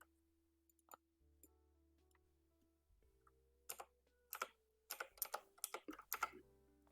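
Clicks from a computer keyboard come in scattered single taps early on, then build into quicker clusters of keystrokes near the end. The typing is close but quiet, over a faint steady hum, with no talking.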